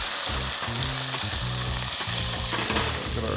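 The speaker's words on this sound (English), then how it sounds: "so we get our bacon flipped, a little stuck, that happens sometimes" Bacon sizzling in a pan: a constant, loud crackling fry with busy spattering pops throughout, close and uninterrupted by speech.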